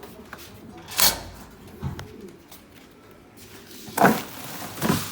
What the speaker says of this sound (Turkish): Kuşlar uçuyor hala galiba.